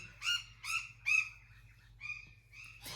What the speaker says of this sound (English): you know why I love living here? Also the birds.